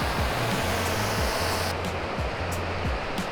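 Antigravity A1 drone in flight, a steady broadband rushing whir with a low, shifting motor hum close by, continuous for the whole stretch with no voices.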